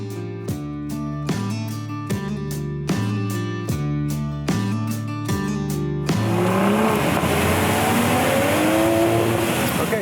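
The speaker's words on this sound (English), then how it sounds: "merging onto the highway in the 2026 GR Supra. Whoa, that B58 is really fun." A 2026 Toyota GR Supra's B58 engine pulls hard onto a highway, revving up through several quick gear changes before giving way to a broad rush of wind and road noise.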